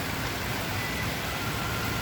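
Steady rain pours outdoors on a rainy birthday visit, a dense continuous hiss with low rumbling beneath, loud and unbroken throughout with no talking.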